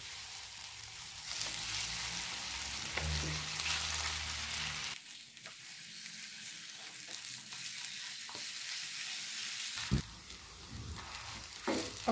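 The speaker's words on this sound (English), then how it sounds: "Now I'm going to fry bologna." Bologna slices fry in a pan over a gas flame, a steady close sizzle and crackle with occasional utensil scrapes and clinks, continuing on its own throughout.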